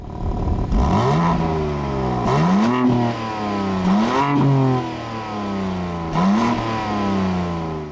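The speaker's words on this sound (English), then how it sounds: "Take a listen to the exhaust in regular mode." A 2023 BMW M2 exhaust in regular mode rumbles through four revs, each rising quickly then settling back to idle, moderately loud and close.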